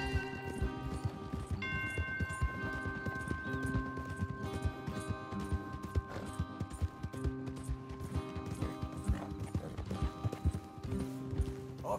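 Rapid horse hooves clip-clopping in Red Dead Redemption 2 over a steady musical backdrop, continuous and moderately quiet.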